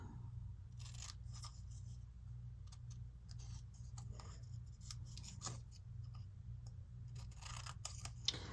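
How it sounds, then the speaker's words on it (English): Scissors snip through green paper for a scrapbook page in a series of quiet, irregular cuts over a steady low room hum. "I might have to cut into the green a little bit."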